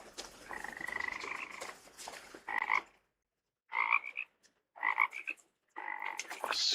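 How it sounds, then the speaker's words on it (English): Frog croaking in the video game What Remains of Edith Finch: repeated throaty calls come in short bursts separated by brief silences, clear and fairly close against a quiet outdoor backdrop. "I hear a frog somewhere"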